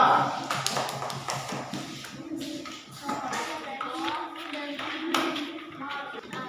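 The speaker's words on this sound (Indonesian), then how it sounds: "tepuk tangan untuk kelompok 2" A group of children clap together in a burst of quick, uneven applause, with a few young voices chattering underneath.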